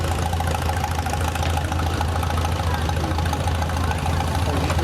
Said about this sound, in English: Here we have a 1940 Farmall 8 owned by Dan Gehring from Cooperstown, PA.